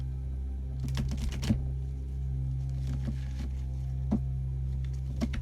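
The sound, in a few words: shuffling an oracle card deck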